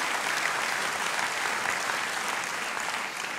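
A comedy show audience in a studio breaks into applause for a man in the crowd, a continuous, dense clapping that stays level and eases slightly at the very end.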